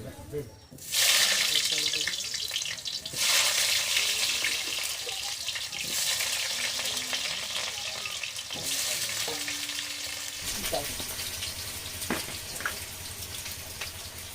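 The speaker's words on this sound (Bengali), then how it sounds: "এই কড়াইতে ভেজে নেব আমি মাংসর জন্য আলু" Potatoes for a meat curry hiss and sizzle in hot mustard oil in a wok, a loud crackling fry with stirring clatter and scrapes, close up and steady, with brief tap-water sounds near the end.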